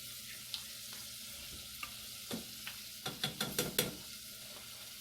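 Kerrygold butter melting and sizzling in a pan for a keto ham and cauliflower soup, a quiet steady fry with a few sharp crackles and stirring clicks clustering near the end, no voices.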